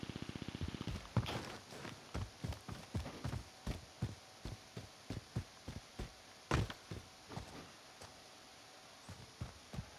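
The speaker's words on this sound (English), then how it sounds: "It sounded like footsteps." Footsteps in the Warzone battle royale game, a steady run of distinct thumping steps repeating at an even walking pace across the whole stretch, fairly close and clear with no talk over them.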